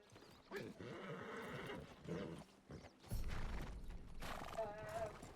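A horse arrives after being whistled for in a western setting, with hoof clip-clops and a loud whinny, heard among people talking nearby.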